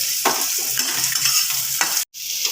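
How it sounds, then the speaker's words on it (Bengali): Potato pieces fry in hot oil in a pan as the first stage of a Bengali mourala fish chachari. A steady, fairly close hiss carries on without speech and breaks off for a moment near the end. "আগে দেবো আলু দু তিন মিনিট আলুটাকে একটু ভাজা ভাজা করে"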